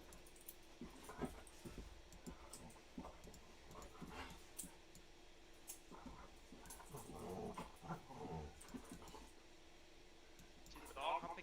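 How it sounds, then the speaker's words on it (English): Two pet dogs play together indoors, giving scattered low growls, snorts and scuffles at moderate distance while people keep talking over them. "I have two dogs. They're playing with each other."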